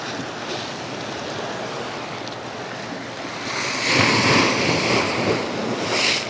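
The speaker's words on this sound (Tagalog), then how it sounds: "Kahit ganyan kalakas yung alon," Strong surf roars steadily at a beach in Ternate, Cavite, with wind buffeting the microphone, the waves swelling louder toward the end as they break on the shore.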